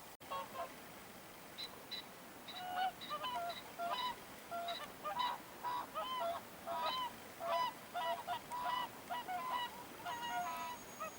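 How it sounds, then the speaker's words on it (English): A flock of wild geese honks repeatedly in a rapid, overlapping chorus as they take flight, the calls moderately distant and fairly quiet outdoors, rising and falling in bursts with no voices. "These birds are off, they won't come back for an hour or two now."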